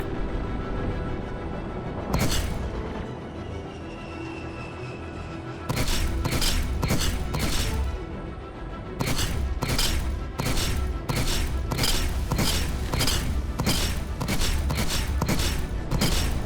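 Spaceship shields in Star Citizen take sustained weapons fire, heard as a continuous roar broken by a rapid series of loud, sharp impact bursts, clustered in a steady barrage near the end.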